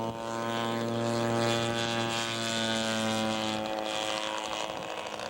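A scale model aircraft taking off at an aircraft show, its engine droning with a strong steady tone that rises and then fades as it climbs away.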